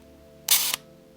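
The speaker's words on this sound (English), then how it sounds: "the sound of longer shutter speeds here is somewhat annoying. This is at 1/5 of a second." Kiev-4AM rangefinder film camera firing its shutter at 1/5 second: a sharp click, a brief whirring buzz of the slow timing mechanism, then a second click closing it, close and isolated against quiet.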